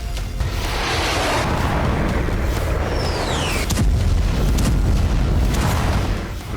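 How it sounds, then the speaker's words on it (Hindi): A drone strike explodes at a Russian defence plant that made drones and missiles, a loud sustained roar and rumble filling the scene, with a thin whistling streak passing overhead midway. "रूस के एक डिफेंस प्लांट पर ड्रोन का धमाका हुआ।"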